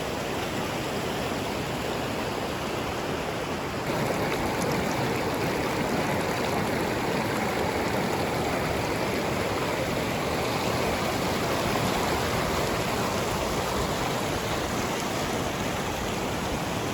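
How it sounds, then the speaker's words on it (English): Mountain stream in Nubra Valley, Ladakh, rushing steadily over rocks as a constant broadband wash, close and loud, with no talk over it. "That was a stream that we went and visited behind."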